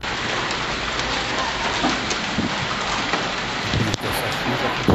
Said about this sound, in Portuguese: E a chuva se armou e veio forte e pesada.